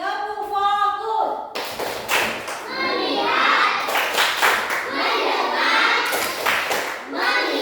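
Schoolchildren clap out a rhythmic classroom focus chant in an Indonesian primary classroom, with sharp, close hand claps in quick patterned bursts mixed with children's chanting voices and a teacher's voice at the start.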